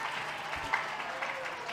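An audience at a spiritual discourse by Swami Hari Chaitanya Puri in Garhinegi claps softly and steadily, a faint, even patter of many hands throughout with a small louder burst in the middle.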